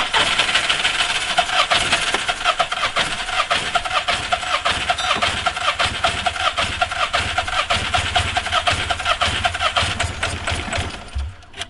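A VW Polo 9N with camshaft damage runs continuously with a fast, even, rattly chatter close by, loud and steady throughout, before cutting off abruptly at the end.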